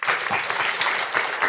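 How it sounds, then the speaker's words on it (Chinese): A church congregation claps for graduates of a women's theological seminary in dense, continuous applause that fills the short moment, close and fairly loud. "我们在这边也拍手来恭喜他们"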